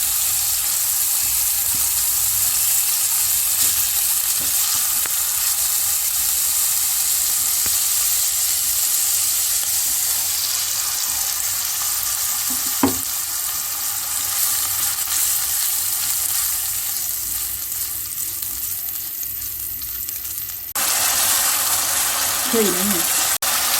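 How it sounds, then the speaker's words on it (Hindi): Masala frying in a pan for achari aloo, a dense, steady sizzle held close and loud for the whole stretch, with a brief clink midway and faint voice traces near the end. "मसाला भून चुका है।"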